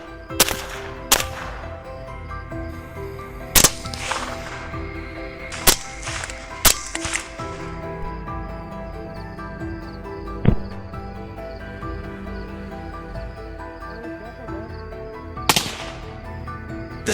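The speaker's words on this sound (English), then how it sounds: "The gunshots rang out, causing the herd of pigs to panic and run away." Gunshots during a night wild boar hunt on farmland, several sharp, loud isolated cracks spaced irregularly over the stretch, some doubled, with a few quieter shots in between over a low steady background.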